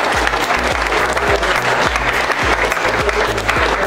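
A whole team of trainees at a Hyderabad phone repair training batch claps together, steady dense applause filling the space, loud and continuous with a rhythmic underlying beat.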